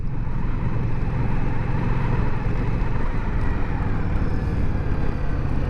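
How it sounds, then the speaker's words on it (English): An Indian motorcycle being ridden, its engine a loud continuous low rumble mixed with heavy wind buffeting on the microphone, steady throughout with no voices. "am now riding Tim's Indian that he bought just a few months ago"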